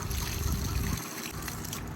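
Water pours steadily from a pipe over cherries being washed, a dense continuous splashing that eases slightly after the first second, nearby and fairly loud.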